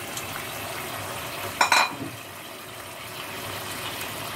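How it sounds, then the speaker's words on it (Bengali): Pointed gourd (potol) slides into hot oil in a pan and fries with a steady broadband sizzle, broken around the midpoint by a short, louder crackling splash. "এবার আস্তে আস্তে পটলগুলো দিয়ে দেবো।"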